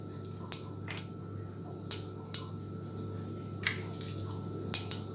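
Mustard seeds, urad dal and fenugreek splutter in hot oil for a fish curry, giving about eight sharp, scattered pops and crackles over a quiet background hiss.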